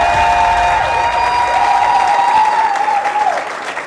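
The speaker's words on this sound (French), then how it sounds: "Est-ce qu'on peut applaudir" Audience applause at a formal interview event honouring a prime minister, steady dense clapping held at full strength for several seconds before easing slightly toward the end, with a faint sustained tone running underneath.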